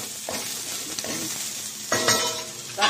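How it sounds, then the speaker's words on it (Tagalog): Ginger sautéing in a pan while being stirred, giving a steady soft sizzle with a few louder bursts of stirring and scraping that swell near the end. "Tapos ngayon magigisa na ako ng aking luya."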